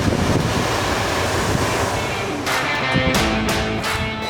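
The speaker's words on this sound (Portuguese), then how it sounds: "A gente vai passar agora por esse túnel de vento aqui para tirar todas as poeiras." Air shower wind tunnel in a lithium battery factory blasts a loud, steady rush of air to blow off dust, with a few sharper gusts or knocks near the end.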